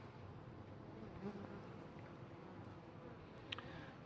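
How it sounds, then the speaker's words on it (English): Honey bees from a tree trap-out hum steadily around their hive, a soft, even drone of many wings with a few brief closer buzzes passing by. "But for now, these bees are doing just fine."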